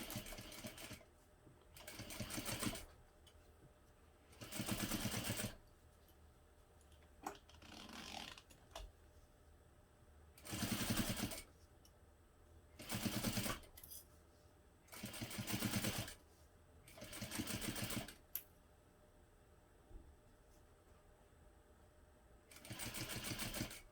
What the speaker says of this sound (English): now I'm going to sew it in place, and I'm using a 1/4 inch seam allowance right now